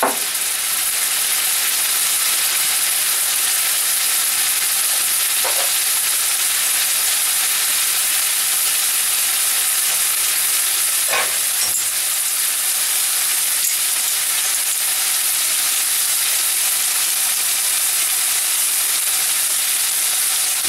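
Garlic and thyme saute in a hot pan with a loud, continuous sizzling hiss that stays close and even throughout, broken by a few faint clinks.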